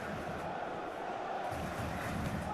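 Stadium crowd noise from the football video game PES 21, during an Auxerre versus PSG match, forms a continuous, even roar of a large distant crowd with no distinct chants.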